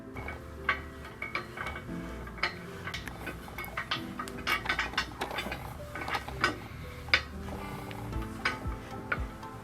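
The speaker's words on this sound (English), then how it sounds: "Now we take our bolt, we drop it into the hole, and it goes into the cross beam. Next we take our Allen key," A bolt in a cross beam on a shield dispenser base is tightened with an Allen key, heard as a close run of irregular metallic ticks and clicks with no talking.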